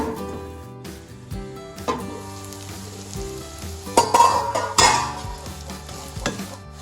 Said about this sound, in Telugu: అల్లం వెల్లుల్లి పేస్టు చక్కగా వేగిందండి.